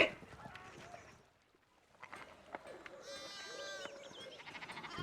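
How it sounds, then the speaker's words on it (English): Sheep bleat in the Pentiment video game, several wavering calls rising over a soft rural ambience with faint background murmur, moderately near and not loud. "we need to get these sheep under control."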